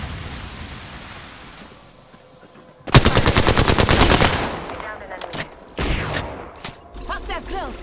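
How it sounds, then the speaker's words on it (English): Gunfire in Apex Legends: a quiet stretch, then a loud, close burst of rapid automatic shots, followed by scattered single cracks and short bursts, with in-game voice callouts heard among the shots. "Listen up, I'm getting shot at."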